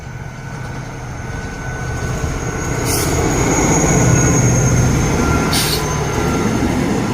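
A diesel passenger train rumbles steadily past a station at close range, a heavy continuous roar with clattering wheels that swells slightly and holds.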